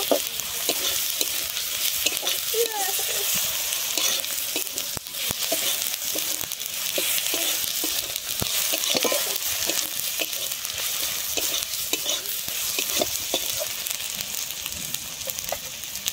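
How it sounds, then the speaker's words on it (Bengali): Chopped tomato lightly frying in a pan after ginger paste, a continuous close sizzle with frequent scraping and tapping of a spatula as it is stirred, no voices. "আমি টমেটোটা এখানে বেশি ভাজবো না, হালকা করে ভেজে নেব।"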